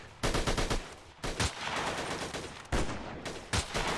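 Gunfire in a war video game: several loud, close bursts of rapid automatic shots separated by short pauses, with no talking.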